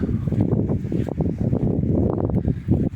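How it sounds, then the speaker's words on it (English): Strong wind gusting at a beach in Chelem, Yucatan, a close, rough buffeting roar against the microphone, continuous and loud throughout with no talking. "we're gonna get blasted with the wind here"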